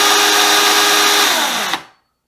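Makita XCU11 18V LXT brushless cordless 14-inch chain saw running at a steady high whine, then its brake engaging so the sound winds down and cuts off abruptly into silence.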